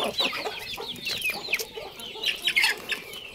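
Native chickens cluck in a pen in rapid, overlapping bursts, close and fairly loud, with no talk over them.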